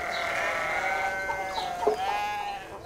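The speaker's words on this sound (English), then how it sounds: "He has 5 goats." Goats on a small farm bleating several times in wavering, drawn-out calls, fairly close and clear over a light outdoor background with no talk.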